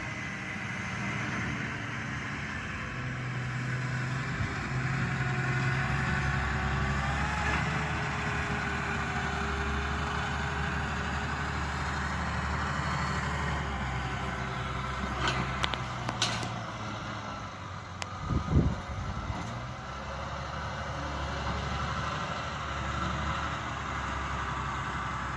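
A tractor at a silage-packing farm idles steadily with a constant low rumble and hum, holding for the whole stretch apart from a few brief clunks and a short bump partway through.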